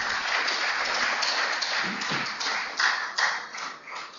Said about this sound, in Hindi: पुरजोर तालियों के साथ उनका आप स्वागत करें